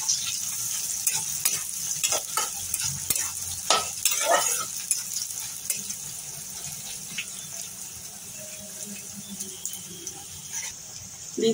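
Chopped onion goes into hot oil already holding whole cumin, a bay leaf and cinnamon, giving a steady close sizzle with scattered clicks of stirring over about eleven seconds and no voices.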